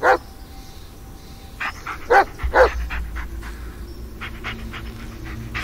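A dog barks in the horror video game Blair Witch: a few loud, separate barks, then softer panting and whimpering, with quiet game ambience underneath.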